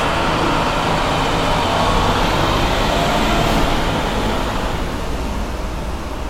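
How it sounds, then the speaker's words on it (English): A loud truck passes by on a street, a heavy continuous engine and road roar that stays strong throughout and eases slightly toward the end. "loud ass truck."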